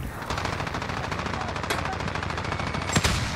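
Rapid automatic gunfire in the shooter game Call of Duty Modern Warfare, a loud continuous stream of close shots with a couple of sharper reports near the end, no speech over it.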